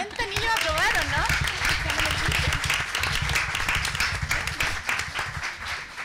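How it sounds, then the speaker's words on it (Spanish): Audience applause at a school science outreach event, a steady wash of clapping lasting several seconds, with voices talking and shouting over it throughout. "¿Un aplauso podemos darle?"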